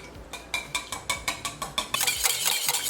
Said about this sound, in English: Whisk into it 2 large eggs and 1/2 teaspoon of vanilla.